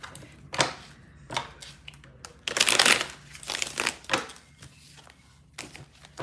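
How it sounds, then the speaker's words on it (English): Tarot cards shuffled by hand, a run of crisp papery riffles and crinkly bursts in irregular clusters, close and moderately loud with quiet gaps between. "We're going to get 3 shuffles and then cut and cut and cut."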